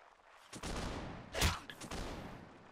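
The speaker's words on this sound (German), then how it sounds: "Jetzt kommen mal die Schüsse gleich vom Nummer 13." A volley of musket fire in the video game Mount and Blade: Napoleonic Wars cracks out in a ragged burst, loud and sharp, with a few scattered shots before and after the main blast.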